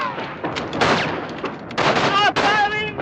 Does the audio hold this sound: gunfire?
yes